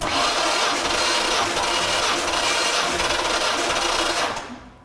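A car engine with the starter solenoid jumped during a compression test turns over in a loud, continuous, even cranking drone close by for several seconds, then cuts off abruptly.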